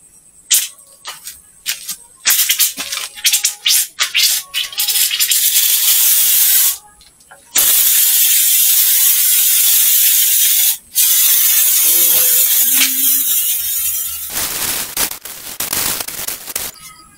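Long hissing bursts from a pump sprayer at a DIY car wash, broken by short gaps and scattered clicks and pops, loud and close.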